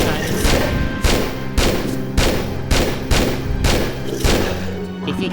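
Rapid gunfire from Tomb Raider 3 Remastered in the Antarctica level, about ten loud evenly spaced shots with a booming thud, close and dominant over the game's background.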